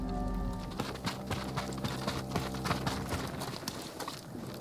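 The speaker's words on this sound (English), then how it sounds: "They're samurai horses." Samurai horses clip-clop at a steady trot in the Ghost of Tsushima video game, even hoof beats over a low sustained musical drone, fairly quiet and with no one talking.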